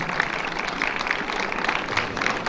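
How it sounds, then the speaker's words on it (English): Applause for Steph Lively and the Lincoln family at a British Invasion-themed dinner, a steady dense patter of many hands clapping indoors, moderately loud and continuous through the whole stretch with no talk over it. "one more applause for Steph Lively and the Lincoln family"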